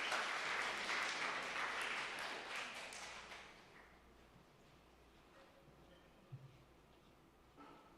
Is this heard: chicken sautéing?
no